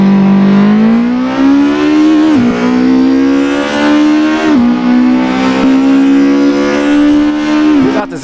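An Opel Kadett C 16V engine in the Assetto Corsa racing game drones loudly and steadily, its pitch climbing through each gear, then dropping sharply at three shifts before rising again, with a brief lift at the very end.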